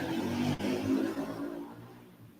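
A motorcycle engine revs outside at a moderate distance. The droning pitch holds, then fades away over about two seconds.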